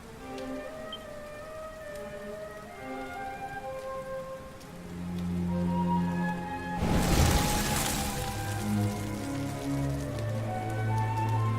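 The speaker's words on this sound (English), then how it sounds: "Looks like the rain's dying down." Rain in the video game Dragon Quest XI patters steadily on surfaces under soft music, swelling into a heavier burst midway before settling into a continuous downpour.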